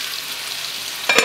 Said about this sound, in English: Stir with a spoon.